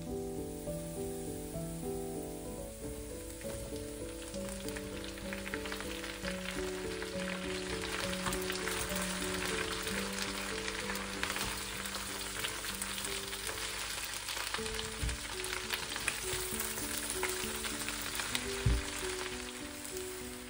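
Hilsa fish head, fried earlier, sizzles in a pan with desi taro greens and fresh green chilies while being stirred. A steady, close frying hiss runs the whole time beneath soft background music.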